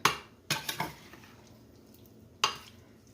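Sausages and peppers are stirred in a pan with a utensil, making a few sharp metallic clinks and scrapes, one near the start, a quick cluster soon after, and another later, all close by.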